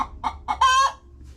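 Hen near a backyard nesting box, three short close clucks followed by a longer drawn-out squawking cackle, loud and alone.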